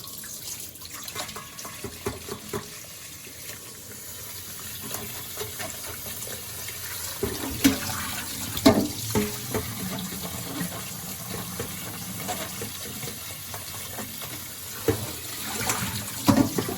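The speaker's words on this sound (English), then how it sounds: "With our shirataki noodles, and we need to rinse and drain them." Running tap water streams steadily into a sink while shirataki noodles are rinsed, the flow shifting and splashing louder partway through as the noodles are moved under it; no one speaks.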